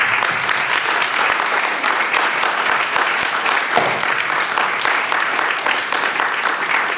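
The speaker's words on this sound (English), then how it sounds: "let's give them a hand again" A large audience applauds after a Europrix presentation about Last.fm, with loud, dense, continuous clapping that holds steady throughout.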